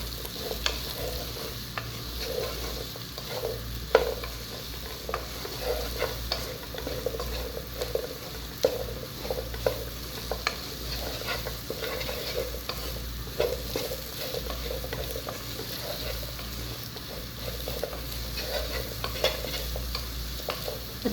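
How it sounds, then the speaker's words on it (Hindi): Okra (bhindi) fries in oil in a pan with a continuous close sizzle, while repeated scraping stirs and light clinks of utensil against pan keep up a busy, uneven rhythm throughout. No one speaks. "सारी भिंडी मैंने इसके अंदर डाल दी है। ठीक है, अच्छी तरह फ्राई करूँगी इसको।"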